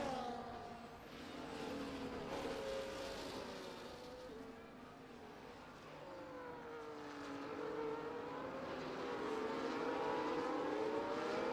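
Engines of multiple race cars in the F1 24 video game scream and whine as they accelerate away from the start, pitches sweeping up and down, moderately loud and blended together.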